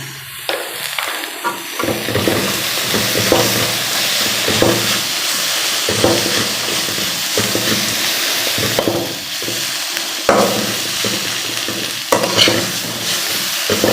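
Cardamom pods and cloves with a little cinnamon bark sauté in hot oil in a pan, giving a steady close sizzle and hiss with repeated scraping stir strokes throughout.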